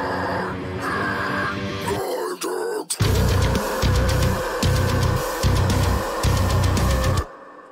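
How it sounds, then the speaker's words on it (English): Filtered passage in a metal mix: a thin, swept-sounding section gives way to dense, loud heavy guitars and drums pounding in a chugging rhythm, then cuts off abruptly near the end. "It's just a easy filter effect, and in context, it sounds like this."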